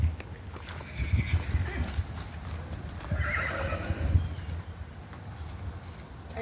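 A horse on a farm whinnies close by, with clip-clopping hooves, rustling and people talking in the background.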